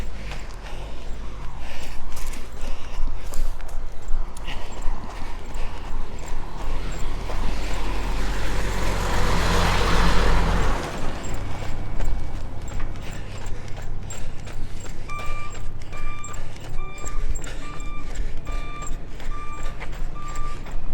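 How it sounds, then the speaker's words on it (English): A heavy truck labors up a steep hill, its deep engine drone building and swelling loud as it draws near, then easing off, with repeated electronic beeps sounding toward the end; no one speaks. "it's pretty steep when a truck's struggling up a hill"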